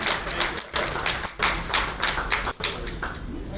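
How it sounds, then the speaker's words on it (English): Audience applause at a Ghaziabad Management Association live-streamed event, a steady dense patter of many hands with brief dips, moderately loud and without speech. "Give him a big hand, big round of applause, sir."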